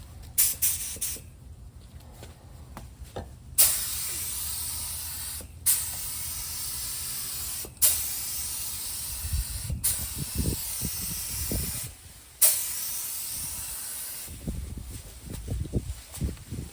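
Spray gun laying bedliner paint onto the top rear of a Fiat 500, a loud hissing spray in several bursts of about two seconds, each starting sharply and separated by short pauses, with faint rustling between passes.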